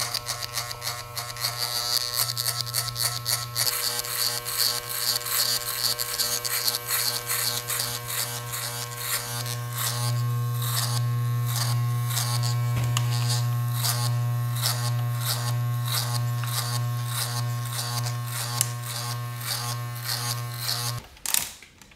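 Cheap electric hair clippers buzz steadily through a self-administered mid fade haircut with a number one guard, a close continuous hum with a rapid cutting chatter that shifts in pitch as the lever opens and the blades move through hair.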